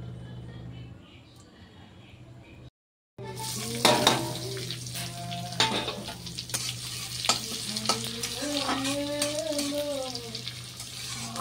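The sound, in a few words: ingredients frying and stirred in oil in a wok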